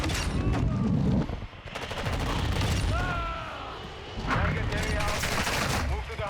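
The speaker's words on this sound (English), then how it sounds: "Who's shooting at me?" Gunfire in the shooter game Call of Duty Modern Warfare 2: rapid bursts and fusillades of shots with booms, dense and loud, broken by brief lulls, with game voice callouts mixed in.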